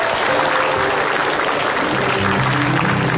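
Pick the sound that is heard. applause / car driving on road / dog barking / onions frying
applause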